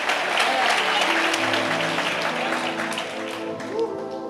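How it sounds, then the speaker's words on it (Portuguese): A church congregation claps vigorously during a sermon, sustained thick applause with a voice carrying over it, easing slightly toward the end. "Se for para Ele, aplauda mais forte, irmão."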